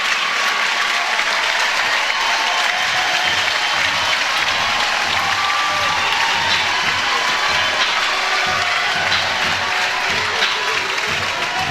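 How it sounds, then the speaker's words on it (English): Crowd at a college softball game, Oklahoma vs Tennessee, applauding and cheering after a sacrifice bunt. Sustained, loud clapping with scattered shouts runs through the whole stretch, dense and steady from start to finish. "The crowd loved that sacrifice bunt against Aaron Newer."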